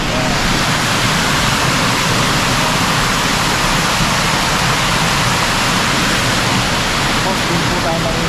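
River water flowing steadily at a fishing spot, a dense, continuous rushing hiss that stays loud and even throughout with no pauses.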